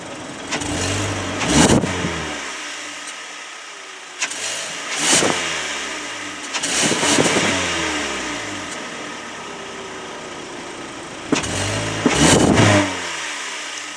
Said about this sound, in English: Dare I say we're gonna rev the Elantra.